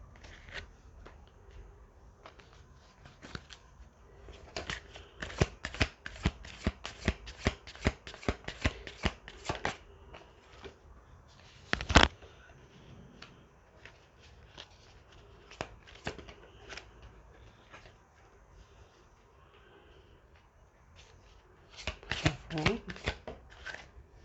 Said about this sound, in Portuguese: Estou retirando as cartas de maneira